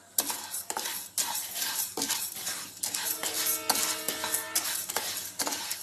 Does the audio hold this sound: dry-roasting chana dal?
yes